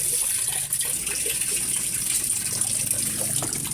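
Water poured steadily onto potted lemongrass and turmeric on a terrace, a continuous splashing gush with no pauses, fairly close and even in level.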